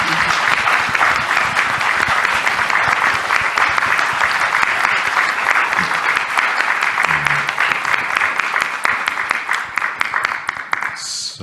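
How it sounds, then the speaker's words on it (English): Symposium audience giving a presidential panel a round of applause, a sustained, loud burst of many hands clapping that tapers slightly near the end, with faint voices underneath. "could we please give them a round of applause"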